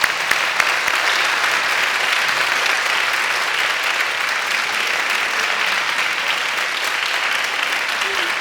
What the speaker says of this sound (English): Let's all give her a round of applause for her.